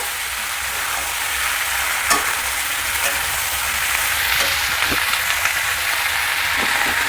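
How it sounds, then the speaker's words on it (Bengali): Capsicum pieces fry in hot oil in a pan with a loud, dense, continuous sizzle like steady rain, broken by a few faint clicks of stirring. "এবার এতে দিয়ে দেব ক্যাপসিকাম। এইগুলোকেও আদা আদা করে ভেজে নেব।"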